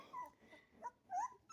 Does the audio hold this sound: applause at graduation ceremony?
no